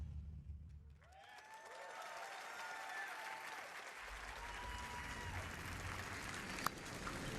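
Audience applause fills the hall at the Bethesda E3 2016 press conference, a steady sustained clapping from a large crowd with no speech over it.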